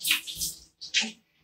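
Water runs and splashes during hair rinsing under a shower, in two loud, close bursts separated by a brief pause.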